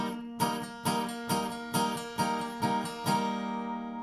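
Six ringing guitar strums in a steady rhythm, each chord sustaining fully into the next without being cut short, then decaying at the end.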